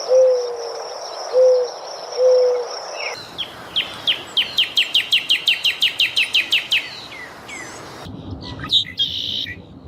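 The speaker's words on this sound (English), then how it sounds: "Owls have cool sound." Owl hooting from a bird sound compilation: three low hoots spaced about a second apart, then a rapid series of sharp chirping calls and a few brief higher notes, all fairly close and clear.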